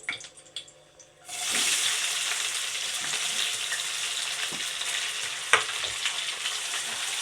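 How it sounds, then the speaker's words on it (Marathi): Onions frying in a pan with whole spices for a spicy chicken masala, a steady close sizzle starting after a second and continuing throughout, with a few stirring clinks. "कांदा चांगला लाल होईपर्यंत कांदा परतून घेऊ असं परतून घ्यायचा लाल"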